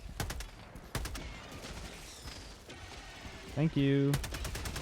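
A sentry turret fires in Helldivers 2 with rapid, loud bursts of automatic gunfire at the start and again in the middle, then a tonal electronic game cue near the end. A player briefly speaks.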